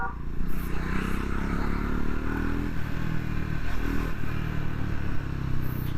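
A Triumph Scrambler 400X motorcycle engine running on a test ride, a loud, steady low rumble with rattling and wind noise close by, and no voices.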